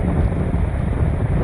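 Steady, loud wind rushing across the microphone on a mountain ghat road at Malshej Ghat with golden grass and rocks, a continuous roaring buffet with no voices.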